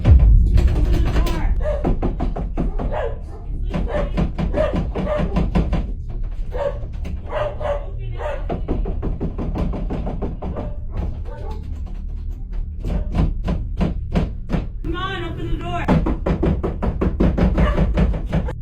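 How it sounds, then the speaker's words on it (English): Loud knocking and banging pound on a bedroom door in rapid, dense bursts that run almost continuously, with muffled voices mixed in. "Loud knocking and banging can be heard on Lucy's bedroom door"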